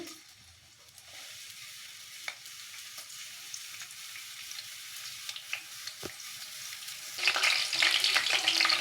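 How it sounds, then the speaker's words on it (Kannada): Mustard seeds go into four to five spoons of hot oil in a pan, starting with a faint sizzle and scattered small pops, then a sudden louder burst of crackling hiss near the end. "ಬಾಣಲಿಗೆ ಎಣ್ಣೆ ಹಾಕ್ಕೊಂಡಿದ್ದೀನಿ ನಾಲ್ಕರಿಂದ ಐದು ಚಮಚ ಈಗ ಸಾಸಿವೆ ಹಾಕಬೇಕು"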